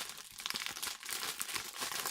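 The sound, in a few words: packaging crinkling while opening a Naruto figurine box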